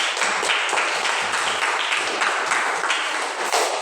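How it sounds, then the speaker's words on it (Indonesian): Students in a classroom clap together in a steady, dense patter lasting several seconds, fairly loud and close, with no talking over it. "Tepuk tangan."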